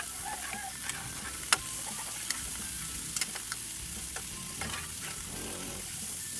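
Chicken feet sauté with onion, garlic and ginger in a pan, a soft steady sizzle dotted with occasional clicks and pops of stirring, nearby and unaccompanied by speech.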